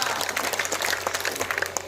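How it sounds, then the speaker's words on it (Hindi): An audience at a Hindi poetry recitation claps together, a moderately loud, continuous patter of many hands with scattered sharper claps, heard alone over a faint low hum. "एक बार ताली बजाए बताओ कि मजा आ रहा है"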